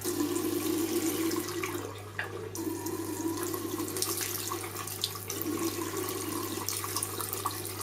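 Hot water runs steadily from a tap while boots are being polished, a constant splashing stream with small gurgling variations and a brief dip near the middle, close and moderately quiet.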